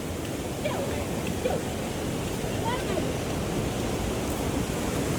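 Steady broadband rushing of a swollen river in rainy weather near Kullu-Manali, flowing nearby, continuous throughout with faint rain-like hiss and no talking.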